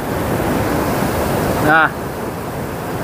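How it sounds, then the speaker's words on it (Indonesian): Steady broadband wash of surf breaking on a rocky, sandless coral shore at Ngobaran Beach, Indonesia, continuous and fairly loud throughout, with a short voice heard briefly midway. "bisa melihat ombak bebas."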